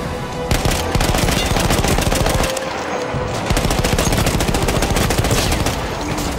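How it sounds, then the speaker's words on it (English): Heavy machine gun in Battlefield 1 firing long, loud, rapid sustained bursts with a brief pause midway, close and dominant over the game's battle noise. "Badass heavy machine gun, holy mother."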